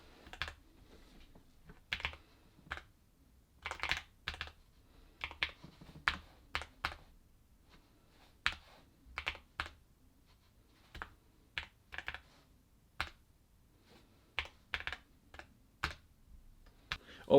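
Epomaker Cypher 21 calculator-keyboard mechanical switches clacking in irregular bursts of quick strokes with short pauses, crisp and close, no voices.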